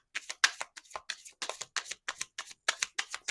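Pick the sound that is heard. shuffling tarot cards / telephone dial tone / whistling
shuffling tarot cards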